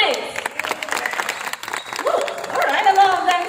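An audience claps at a bird show at Jurong Bird Park, a short burst of scattered applause mixed with crowd noise and a voice over a loudspeaker.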